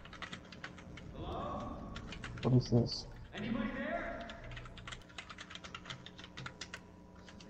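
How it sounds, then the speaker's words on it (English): Rapid computer keyboard typing clicks run through the scene, near and steady, while a person speaks briefly over them during a gaming live stream. "Who's typing? Stop typing."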